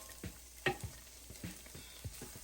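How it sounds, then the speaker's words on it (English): Quiet sizzling of celery and carrots sautéing in oil in a pan, with soft scattered stirring clicks. "saute this up until they have softened"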